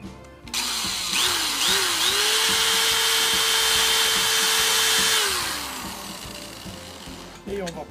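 Power drill boring a hole to mount a motorcycle turn signal, running at a steady high-pitched whine for several seconds after a few short revving bursts, then winding down, with a voice briefly heard at the edges.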